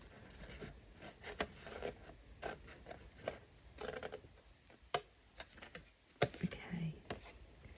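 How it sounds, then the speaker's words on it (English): Scissors cut through paper in a steady run of small crisp snips, quiet and close, while shaping a folded criss-cross craft pocket for happy mail. "to cut from there all the way up to that fold line"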